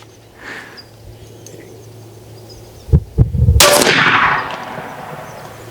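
Shots from a supersonic AEA Megalodon .58 caliber air rifle that is misbehaving and sounding weak: a couple of sharp close reports followed by a louder blast with a hissing decay.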